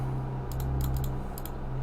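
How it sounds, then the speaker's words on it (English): Quick light taps on a computer keyboard come in a few short bursts over a steady low electrical hum, close and fairly quiet, with no voices. "I suppose we could try typing that in again."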